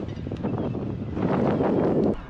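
Strong wind blows at a seaside marina in Bangor, Northern Ireland, buffeting the microphone with a loud, rough, continuous rush that swells toward the end.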